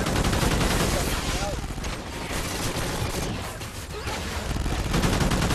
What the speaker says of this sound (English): Next is gonna be my gun. Scorpion!